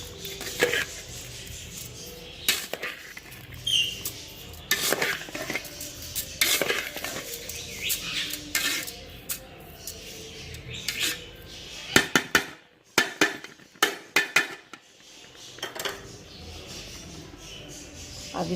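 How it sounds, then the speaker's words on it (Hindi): A spoon clinks and scrapes in a metal pot while sugar is mixed into rice for Pakistani zarda, irregular knocks and scrapes that grow into a flurry of sharp taps near the end, close by. "अब ये हम जो चीनी है ये इसके ऊपर डालेंगे। इसको थोड़ा सा हिला लेंगे।"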